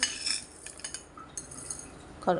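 Raw fish being mixed into a cumin and coriander paste for a fish curry, with spoon-on-dish clinks and light scraping. The clatter comes in short, sparse bursts, close and fairly quiet.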